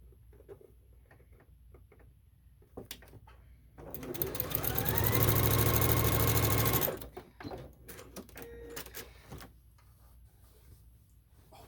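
A sewing machine stitches a table runner in a fast, steady burst of about three seconds, with quiet handling clicks and rustles before and after.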